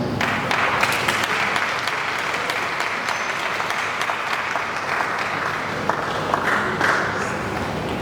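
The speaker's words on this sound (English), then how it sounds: "Please let's give him a round of applause once again." Audience applause at a valedictory lecture, dense sustained clapping from a sizable crowd, loud and close, holding steady throughout with individual sharp claps standing out.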